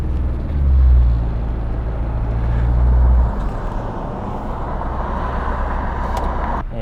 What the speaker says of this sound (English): the idle's not quite right